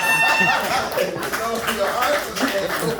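An audience at a stand-up comedy show claps and chuckles, the clapping mixed with laughter and a speaking voice close up.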